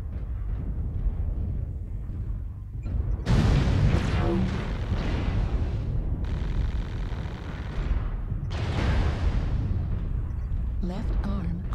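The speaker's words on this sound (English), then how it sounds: "Artillery strike online." Artillery strike explosions in MechWarrior Online, a sustained wash of booming blasts that rises sharply twice, with rumbling continuing between the impacts.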